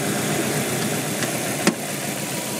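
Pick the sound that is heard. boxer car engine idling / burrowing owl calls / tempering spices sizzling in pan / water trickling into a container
boxer car engine idling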